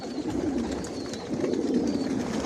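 Racer pigeons coo steadily in a loft, the low throaty calls overlapping continuously at close range with faint rustling behind.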